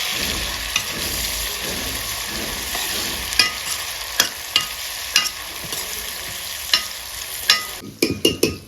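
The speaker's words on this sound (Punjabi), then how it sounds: "ਹੁਣ ਟਮਾਟਰਾਂ ਨੂੰ ਆਪਾਂ ਵਧੀਆ ਤਰੀਕੇ ਨਾਲ ਭੁੰਨ ਲੈਣੇ ਆ" Chopped tomatoes and onions roasting in a hot pan, a steady bright sizzle punctuated by regular scraping stirs that grow sharper and more frequent toward the end.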